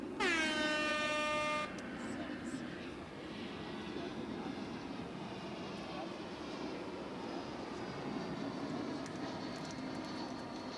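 An American Airlines jet arriving from Denver at DFW airport, its steady broadband engine roar holding at moderate distance throughout, with a sharp tonal horn-like burst at the very start before settling into continuous rumble.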